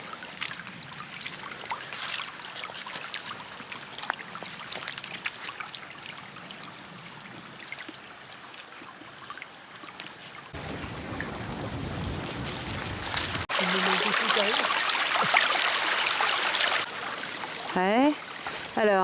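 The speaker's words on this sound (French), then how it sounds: "Sur le côté, là, le petit ruisseau" A small stream trickles and flows beside a footpath in the Monts d'Arrée in December, a faint, steady watery rush that swells louder toward the end.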